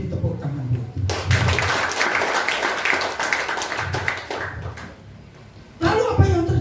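A church congregation at a Pentecostal revival service applauds for God, with dense clapping that swells for several seconds and then dips before rising again, while voices and shouts carry through it.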